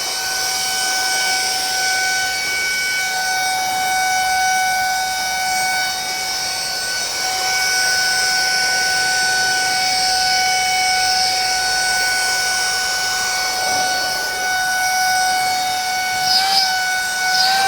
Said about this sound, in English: Let me grab the blower,